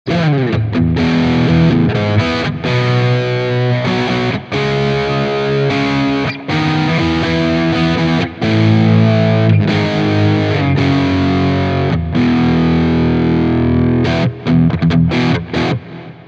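Heavy distorted electric guitar on a Quad Cortex chugs out a thick bridge-pickup rhythm riff, loud and close, with short gaps between chunky palm-muted phrases.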